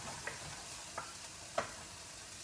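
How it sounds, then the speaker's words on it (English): Garlic, red pepper flakes and kale sauté quietly in a pan under a faint steady sizzle, with three soft, evenly spaced taps of a utensil as the greens are moved around; close and low, no talking. "garlic's starting to cook, red pepper flakes are kicking my butt. and I'm just kind of moving it around"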